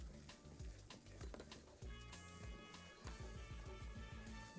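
Ghee and three spoonfuls of flour sizzle in a pan for a béchamel sauce, a close, steady crackle under rhythmic scraping and stirring strokes.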